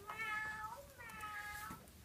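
A cat meows twice in a storybook reading about a noisy household, each call a clear, drawn-out tonal meow, moderately close with faint background hiss and no talk.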